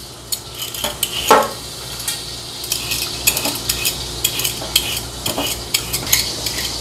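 Food frying in a pan while a utensil scrapes and clinks against it in irregular strokes over a steady background sizzle, close and fairly loud, no talk.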